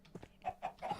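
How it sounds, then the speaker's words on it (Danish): A chicken in the Minecraft video game gives a quick run of short, close clucks, about four or five in rapid succession, alone with no talking. "Der er kylling."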